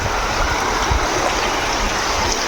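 A fast-flowing river current rushes steadily beneath a bridge in Taman Melawati, with a loud, continuous broadband wash and occasional low splashes near the listener.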